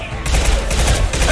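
Shotgun fire in Mass Effect 2 Legendary Edition, a loud, dense burst of gunfire and combat noise that fills the whole moment at close range.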